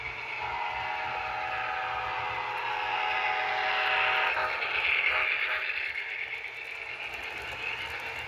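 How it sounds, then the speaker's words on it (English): Amtrak Train 4, the Southwest Chief passenger train, passes on the Santa Fe main line, a sustained horn chord sounding over a low rolling rumble that swells midway and then eases, heard at moderate distance without voices. "Next Amtrak comes in, as Train 4 the Southwest Chief flies by"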